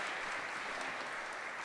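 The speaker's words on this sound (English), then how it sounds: "let's give her a round of applause" Steady, dense applause from a church audience greeting Michelle at a Silver Eco Award presentation, an even, continuous patter of many hands without pauses or voices.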